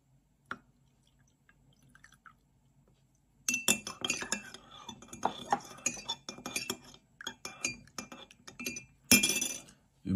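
Apple cider drink being stirred in a glass: a lone clink first, then after a quiet pause a busy run of spoon-on-glass clinks and sloshing liquid, ending on a sharp louder clink, close and with no talk.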